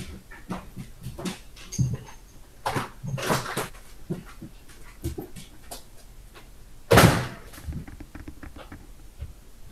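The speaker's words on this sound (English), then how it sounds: "My dog thinks that I'm talking to her. And so she tries to talk back" A pet dog indoors makes soft whimpers and small vocal noises, with light pattering and shuffling around it and one louder thump near the end.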